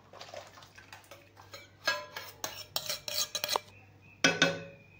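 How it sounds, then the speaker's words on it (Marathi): A spoon stirs khoa paste through hot milk in a pot while basundi cooks, giving a series of close metallic scrapes and clinks against the pan, with a short pause before a final burst of stirring. "त्याला आता खव्याला परत आपण एक छान असं हलवून घेणार आहे"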